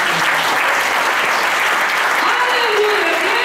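Church congregation clapping together in steady, dense applause, loud and continuous throughout, with faint voices mixed into the crowd noise.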